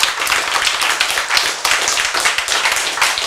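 An audience clapping during a Korean sermon, a dense, even patter of many hands held at a steady level without cheering.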